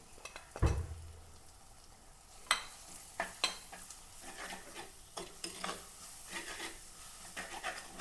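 Onion, green chili, ginger and a coriander-turmeric spice paste sauté in a pan under a soft sizzle, marked by an early thump and repeated intermittent scraping stirs.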